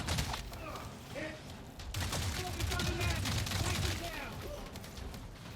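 Gunfire in the video game Avatar: Frontiers of Pandora, a dense run of shots and impacts under steady game ambience and background action, moderately loud, with a voice briefly talking over it.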